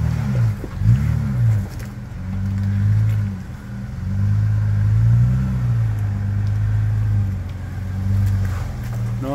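A 4WD crawls over rocks on a rugged Victorian High Country track near Jamieson Hut, its engine rumbling low and steady with rising and falling revs throughout, close and fairly loud with no talk.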